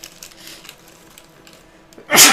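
A single sharp sneeze bursts out at the very end after a few quiet seconds of faint background rustling.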